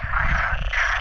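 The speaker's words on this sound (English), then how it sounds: "like hundreds of frogs chanting in this pond" Hundreds of frogs croak together in a misty pond in Fanal Forest, Madeira, a dense, continuous chorus that fills the air loudly and steadily without a break.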